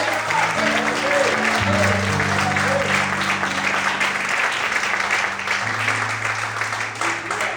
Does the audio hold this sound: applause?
yes